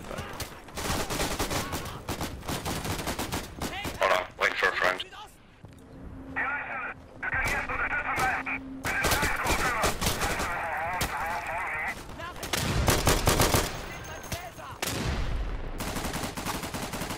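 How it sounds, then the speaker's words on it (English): Sustained gunfire in the video game Day of Infamy, with dense bursts of rifle and machine-gun shots, a few quieter gaps and some heavier volleys, mixed with talk throughout. "I'm just shooting people now."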